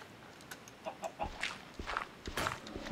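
Chickens clucking in the video game Minecraft, several short scattered clucks and squawks at moderate volume over faint background noise, with light footstep-like taps.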